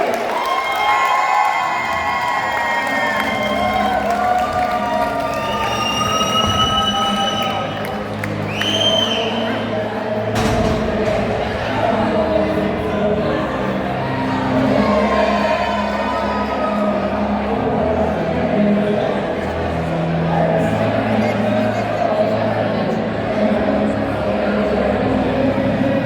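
A live wrestling-show crowd cheers, whoops and applauds loudly for a wrestler, a steady roar that swells and dips, with excited shouts and an announcer's voice over it.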